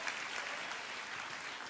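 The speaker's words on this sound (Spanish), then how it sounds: "dale un aplauso" A church congregation claps, a soft, even patter that sounds distant and quiet, with no other sound standing out.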